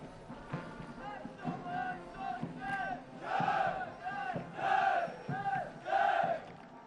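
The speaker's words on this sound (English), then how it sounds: "They will cheer the cadets of the passing out course." Military academy cadets on the quarterdeck at a passing out parade shout in unison, a series of rhythmic, chanted cheers from a large group that rise and fall in regular bursts, growing louder toward the end.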